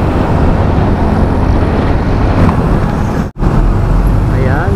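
Heavy roadway traffic rushes past during a motorcycle ride through congested streets, a dense, steady roar of engines and wind with a brief dropout near the end.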